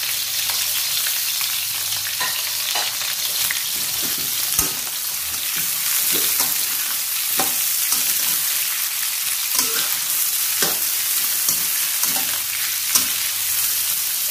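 Carrots sizzling and being stirred in hot oil in a wok for vegetarian stir-fried noodles, a steady close crackle broken by regular scraping stirs, with no talking.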